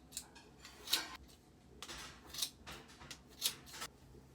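Scissors snip in short, soft, crisp cuts through damp hair during a self-haircut, arriving in small clusters with pauses between them, quiet and close.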